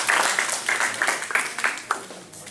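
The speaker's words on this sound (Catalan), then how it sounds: "Un aplaudiment." A small audience at a writing conference gives brief, sparse applause, a handful of distinct claps rising and fading over a couple of seconds.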